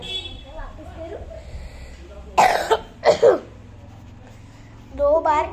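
Two harsh coughs in quick succession stand out mid-clip, followed by a short burst of voice, over a quiet background with faint murmuring.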